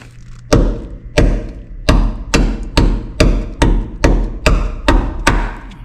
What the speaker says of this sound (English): let me get a screwdriver